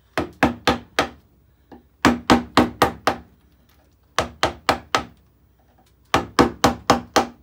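A mallet drives a chisel into hard elder wood while carving an altar front, giving crisp, close knocks in quick bursts of four or five strikes separated by short pauses.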